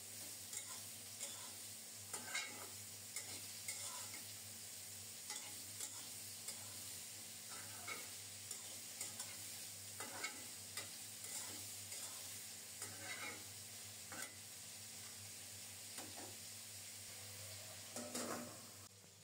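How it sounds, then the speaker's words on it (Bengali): Onion and papaya fry in a pan in a home kitchen. A soft, steady sizzle continues throughout, with faint scraping stirs and occasional light clinks at a moderate distance. "পেঁয়াজটাকে একটু বাদামি করে ভেজে নেব। এরপরে পেঁপেগুলো দিয়ে দেব।"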